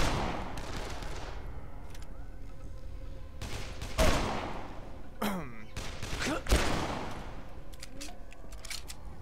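Rifle gunfire in the Dead Island video game: loud single shots at about 4 and 6.5 seconds, plus a sharp crack near 5 seconds, over constant game ambience with someone talking.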